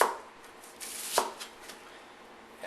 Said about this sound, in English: So to cut the cabbage, almost like shredding it for coleslaw